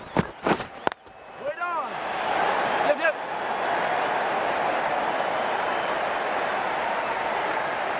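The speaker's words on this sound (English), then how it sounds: "It's going to be hard for the bowler to focus with the crowd this excited." Excited crowd at an Australia versus India cricket World Cup match roars in a sustained, dense wash of cheering and applause after a few sharp claps and whistles, loud and continuous throughout.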